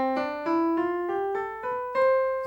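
An instrument plays a major scale, eight distinct notes climbing evenly one after another at a moderate pace, clean and close with no voices.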